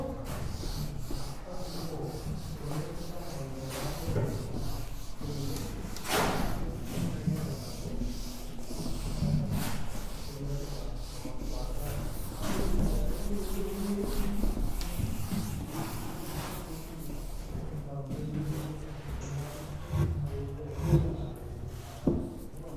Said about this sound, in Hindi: रब कर रहा हूं मैं इसको।